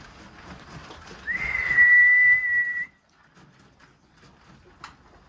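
A single clear, rising then steady whistle lasts about a second and a half outdoors, followed by quiet ambience and a faint click.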